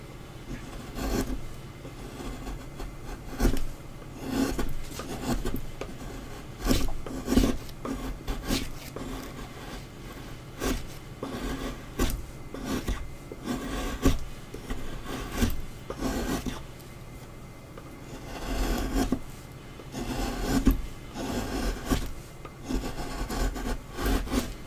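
A chisel carves a big block of wood in rasping, scraping strokes, repeated in an irregular rhythm of short cuts, close and moderately loud, with no talk.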